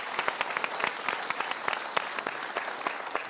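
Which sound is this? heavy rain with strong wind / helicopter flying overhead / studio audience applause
studio audience applause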